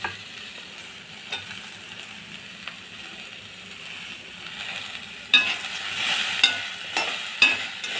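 Okra sautéing in a pan with salt gives a soft, steady sizzle, broken by a few stirring scrapes that grow louder and busier in the second half.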